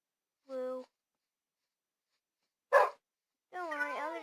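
A cartoonish puppy in a video game yips in three separate short barks with pauses between, clear and close against silence.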